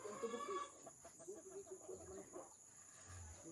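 A small flock of chickens, a mother's pets in their new coop, clucking faintly at a distance, with insects chirping steadily in the background.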